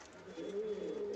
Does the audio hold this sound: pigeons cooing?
yes